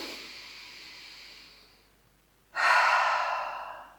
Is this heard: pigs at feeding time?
no